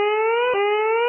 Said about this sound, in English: Uh-oh, the sirens.